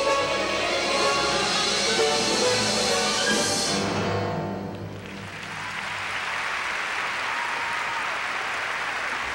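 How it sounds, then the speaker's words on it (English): A crowd at the 1998 United States Figure Skating Championships ladies' free skate in Philadelphia's CoreStates Center applauds loudly with music playing underneath, then the clapping thins into a steadier, softer wash of hands across the arena. "Nice hand from the crowd here at the Core State Center."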